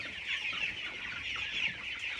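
Broiler chickens clucking softly in a flock on litter bedding, a continuous murmur of overlapping bird calls at low volume, no talking.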